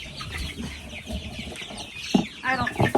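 Young chicks being moved from their brooder into a coop during a thunderstorm, clucking and peeping in short close bursts that grow busier toward the end, over a soft background hum.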